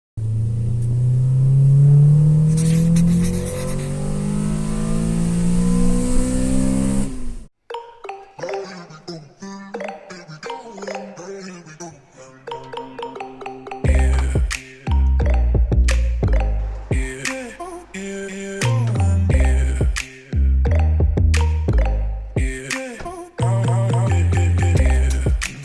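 A car fitted with a straight-through exhaust revs hard and loud at close range, its rising engine note rasping for several seconds before cutting off, followed by a choppy stretch of other loud sounds.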